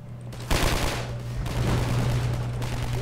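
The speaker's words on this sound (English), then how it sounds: "Who's shooting? I can't tell." Gunfire bursts in Half-Life 2 ring out over a steady low in-game hum, starting with a loud crack and continuing as a dense, rattling volley through most of the clip.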